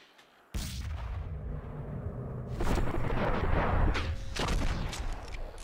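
Gunshots ring out in a Red Dead Revolver duel: loud, booming blasts with a sharp onset, a first burst followed by a second heavier volley a couple of seconds later, trailing into sustained rumbling noise.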